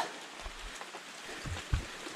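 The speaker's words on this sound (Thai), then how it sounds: "ฝนก็เลยสักเข้ามานะครับ" Steady rain falls on a forest hut deep in the jungle, a faint, even patter with a few soft drip thuds, quiet and continuous, with no voices.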